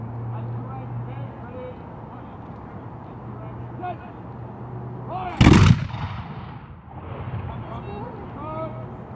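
War of 1812 reenactors fire a musket volley outdoors at a Remembrance Day event, a single loud, sharp blast with a short rolling tail, while someone talks steadily before and after.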